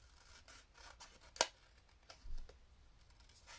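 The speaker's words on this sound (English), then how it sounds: "These are really nice to cut out, I think, because they're all just straight lines." Scissors snipping designer series paper pieces along straight lines for a pop-up card, heard as a few faint, soft cuts with one sharper snip standing out, close by and quiet with no talking.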